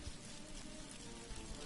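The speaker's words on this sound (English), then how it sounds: "Is it raining outside?" Soft, steady rain patters outside, a faint continuous hiss with light drips and no voices.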